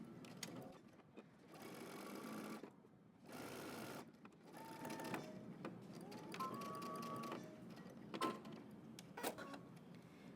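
A sewing machine stitches a 5/8-inch dress seam, running in several close bursts with short pauses between them, the motor whirring steadily during each run.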